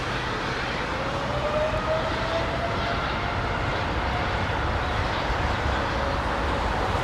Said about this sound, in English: Hear the APU running.